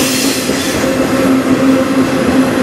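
A CN intermodal freight train hauled by locomotives 8818 and 2535 rolls past on the Strathroy Subdivision, a loud, steady rumble and roar with a faint wheel squeal running throughout.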